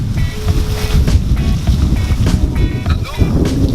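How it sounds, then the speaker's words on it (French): Strong wind blows steadily across an outdoor microphone, a loud, continuous low roar with gusting surges that never lets up, strong enough to have knocked over a bike nearby. "il y a trop de vent"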